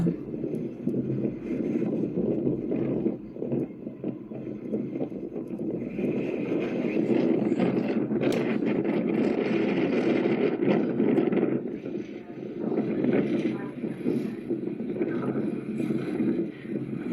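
Continuous low rumble of a large passenger and vehicle ferry's engines on the Baltic Sea, with wind and water noise, steady and loud throughout, no one speaking.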